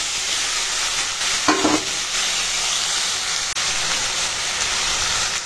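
Jackfruit seeds, thin-cut potato and eggplant frying in a pan for a Bengali dish, a loud steady close sizzle with a brief stirring scrape early on.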